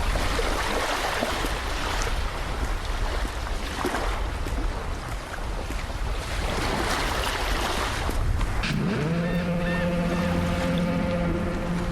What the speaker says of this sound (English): Someone is like doing foghorn noises over there